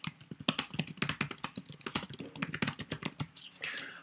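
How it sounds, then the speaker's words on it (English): Close, quick typing on a computer keyboard, a dense string of crisp key taps in irregular bursts, ending in a brief softer shuffle, with no talking. "you can type your message here."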